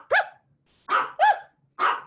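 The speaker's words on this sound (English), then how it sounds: "That my dogs are gonna get worked up." Dogs bark close by in four sharp, loud yaps: two spaced apart, then a quick pair, then one more, with nothing but silence between them.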